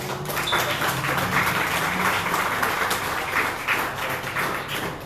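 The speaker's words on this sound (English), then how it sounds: "Give yourselves a round of applause." Steady audience applause fills a podcast festival talk hall in Austin, Texas, a dense wash of many hands clapping at even loudness throughout, with no voices on top.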